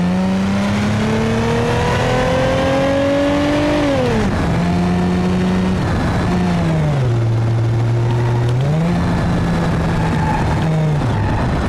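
Turbo Taxi Sedan with a 2.8 liter V6 in BeamNG.drive, its engine revving steadily up and down through several rises and dips over about twelve seconds, loud and continuous with no talk.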